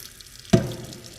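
Tap water bursts into a shop wash sink used for cleaning a stripped Aston Martin DB9 grille: one sudden splash and a short, fading trickle in a quiet room.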